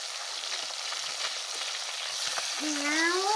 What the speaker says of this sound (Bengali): মাছটা কিন্তু একদম কড়কড়া করে ভেজে নেব।